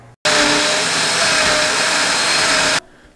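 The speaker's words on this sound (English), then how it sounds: "So I'm gonna combine all together, all 3 together, put in the blender and make paste." A loud electric blender whirs continuously for about two and a half seconds, grinding garlic and onion with water into a paste, starting and stopping abruptly.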